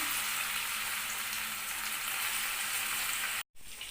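Chicken 65 pieces deep fry in hot oil with a dense, even hiss that holds steady before cutting out briefly near the end.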